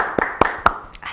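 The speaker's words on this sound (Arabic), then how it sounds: "تصفيق شباب. صفقوني صفق زعبوري هيدوني." A handful of people clap a few times, close and somewhat uneven, roughly four distinct claps over a moment in a small room with quiet voices beneath.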